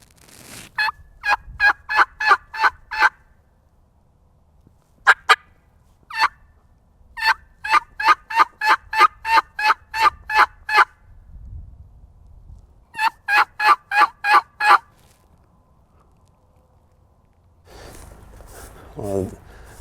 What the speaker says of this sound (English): said he heard some gobbling up here in this woodlot